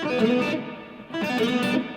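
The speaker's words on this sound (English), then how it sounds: "The first thing I want to do is a lick that sounds like this." A distorted electric guitar plays a short bluesy lick, bending notes in two quick phrases, loud and close, with no voices.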